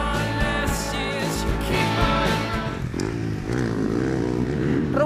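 Motocross motorcycles race nearby, engines revving and shifting in a loud, continuous whine that rises and falls as bikes pass, with no clear talk over it.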